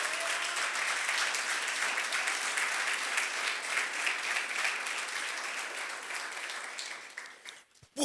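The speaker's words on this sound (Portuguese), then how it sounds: "Vamos aplaudir o Senhor bem forte." A church congregation claps strongly for the Lord, a dense, even wash of applause lasting several seconds before tapering off abruptly.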